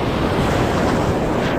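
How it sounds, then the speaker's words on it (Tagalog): Ocean waves at sea, heard from a small fishing boat off the Philippines, form a loud, continuous rushing roar mixed with wind buffeting the microphone. "Ay, mamaw pa yung alon."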